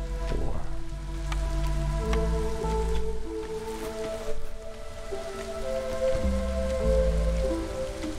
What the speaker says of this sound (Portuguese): Olha o sol, mas a chuva não passa.